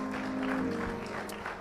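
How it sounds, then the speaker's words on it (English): Church congregation applauding during a Sabbath service, a steady wash of clapping throughout with a sustained tone from music beneath, moderately quiet and without speech. "Can we give the Lord another round of applause?"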